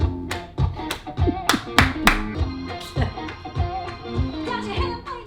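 An audience claps along to a song in a regular rhythm, the sharp claps landing on the beat over sustained music.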